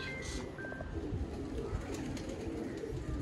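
Domestic pigeons coo softly and repeatedly in Haripur, Hazara, against a busy background hum, the low calls overlapping in a steady murmur.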